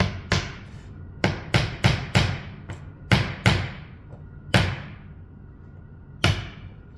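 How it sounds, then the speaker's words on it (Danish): A hammer drives a nail through a metal profile plate with about ten sharp, ringing strikes in an uneven rhythm, each blow close and loud with a short metallic decay. "Så jeg tager en dykker og en hammer. Så banker jeg ellers bare en af de her dykker igennem."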